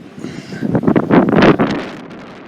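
Wind gusts across a microphone on a trail near Santa Fe, building into a loud rumbling buffet for a couple of seconds before dropping away.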